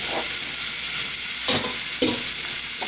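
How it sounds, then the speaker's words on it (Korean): Onion and chopped green onion hiss steadily in about a spoonful of hot oil in a pan, with a few sharp spatula scrapes marking the stir-frying, loud and close, with no talking. "자, 이거를 양파와 다진 대파를 넣고"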